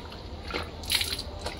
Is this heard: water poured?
yes